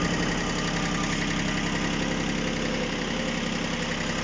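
A three-cylinder engine on a Japanese mini tractor with a soil rotary tiller idles steadily and smoothly, a close, even low rumble with no voices.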